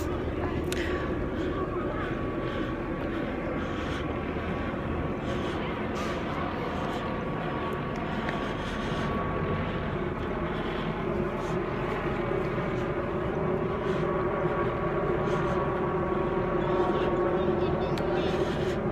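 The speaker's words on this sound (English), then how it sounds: "The police helicopter is still out." A police helicopter circles overhead in Cleveland, a steady broadband rotor drone holding at constant loudness throughout, with a faint voice in the background.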